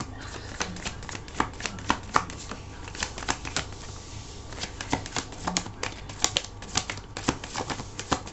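Tarot cards being shuffled and drawn, a close run of quick papery flicks and snaps in an irregular rhythm over a quiet background, with no voices.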